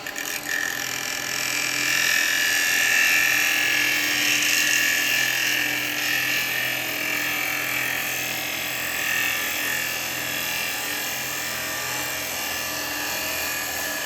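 Woodturning lathe with a gouge taking a fine finishing cut inside a bowl, giving a steady high, whining hiss that runs continuously for the whole stretch with no talk.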